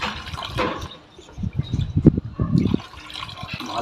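Stale rice water being strained for organic fertilizer: close, uneven pouring and trickling liquid with splashy bursts and a brief lull, without any talk.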